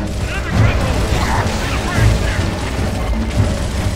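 A booming explosion from the Gears of War video game bursts out amid dense, continuous battle noise, with several heavy low thuds and rumbling impacts spread across the moment.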